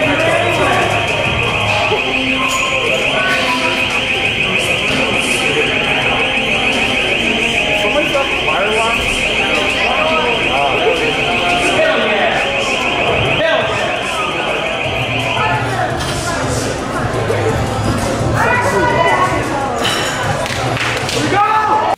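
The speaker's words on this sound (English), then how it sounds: "Fire alarm's going off." A fire alarm blares at a powerlifting meet, a continuous piercing electronic tone that runs loud for about fifteen seconds and then cuts off, over a noisy crowd and clanking weights, with people talking throughout.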